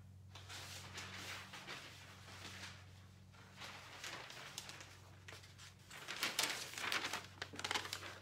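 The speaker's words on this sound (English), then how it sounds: "I've never liked handling newsprint, but when I'm working with this, it doesn't bother me" Newsprint is handled and crinkled close by with soft rustling that grows into louder, busier crumpling bursts near the end, over a low steady hum.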